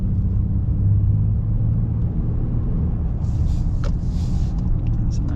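A 2026 Honda Ridgeline Sport's V6 engine pulls under acceleration as a steady, close, low rumble that holds through the whole drive.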